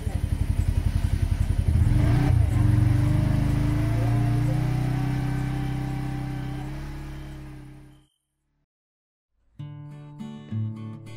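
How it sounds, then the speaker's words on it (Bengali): A motorcycle engine starts with rapid throbbing, revs up and fades steadily as it rides away, followed by a short silence and then unrelated sounds. "তারপর বাইক স্টার্ট করে চলে এলাম"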